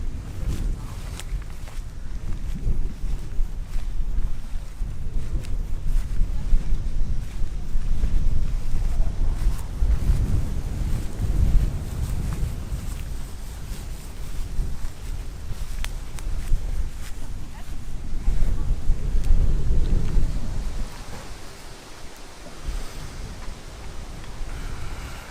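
Heavy, rumbling wind buffeting a microphone outdoors at a gathering, loud and continuous with gusts swelling around the middle and easing toward the end, with a voice faintly underneath.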